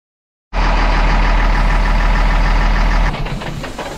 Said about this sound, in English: We're gonna back the army truck back down the road one last time in full-time four-wheel drive.